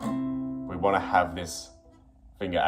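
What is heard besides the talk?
No everyday noise stands out behind the speech.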